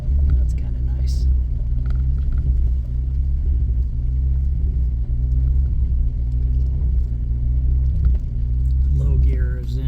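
A car engine in low gear holds a steady, low droning rumble while creeping down a steep mountain road, close and continuous, with faint voices at times.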